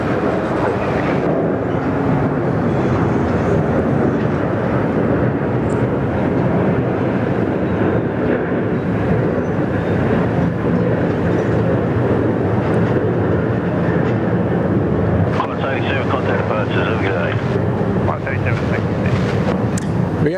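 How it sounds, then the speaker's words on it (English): Qantas flight 87 departs Sydney Airport for Seoul, its jet engines making a loud, steady, broad roar that holds unbroken for the whole stretch. "We go, Qantas 87 off to Seoul in beautiful South Korea."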